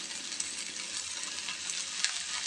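Tomatoes dropped into a hot pan of cauliflower and pea curry fry with a continuous close sizzle, faint crackles and pops scattered through it, and no voices.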